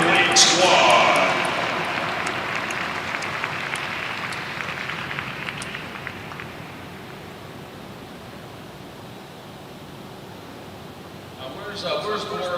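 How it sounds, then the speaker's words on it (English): Audience applause at a Power Showcase welcome dinner, a loud burst of clapping that swells at first, then fades into a sustained wash of crowd applause before a fresh flurry near the end. "how about another round of applause for the Power Showcase World Classic American League Squad"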